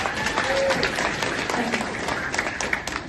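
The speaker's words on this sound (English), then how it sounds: "y'all give her a big round of applause and make her feel welcome" An audience at a homesteading expo gives a steady round of applause, the clapping blurred under a background of crowd noise and a voice.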